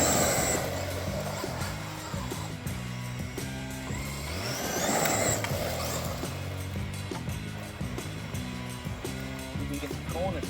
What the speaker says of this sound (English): Let's put some batteries in it and run it.